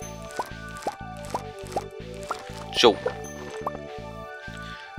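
Watering can pouring onto crops in Stardew Valley, a series of bright, evenly spaced water plops and drips over steady game music, with a brief voice heard partway through.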